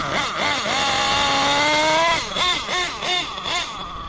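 A nitro engine held at a raised idle while its carburetor is tuned rich, a loud, buzzing whine that holds steady and then wavers in quick pitch dips and rises as the throttle blips.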